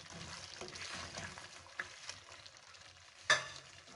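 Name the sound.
chopped vegetables added to frying chicken jalfrezi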